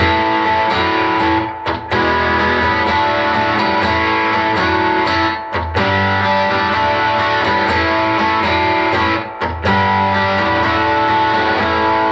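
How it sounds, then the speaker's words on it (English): An electric guitar runs through a Line 6 HX space echo effect, with sustained chords ringing in dense repeating echoes and three brief dropouts between phrases. The playing is loud and continuous with no voices. "Space echo so you can actually hear what it sounds like just normal"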